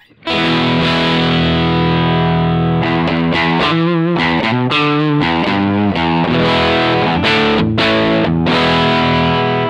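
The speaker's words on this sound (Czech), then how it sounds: "Takže zapínám zkreslení a napálím středy." An electric guitar runs through an AMT O2 unit with the distortion switched on and the mids boosted, giving loud, sustained, saturated chords that ring steadily with rhythmic changes.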